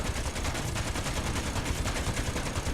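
Rapid automatic gunfire in the Space Engineers video game, rounds hammering iron targets in a dense, continuous burst with no pauses.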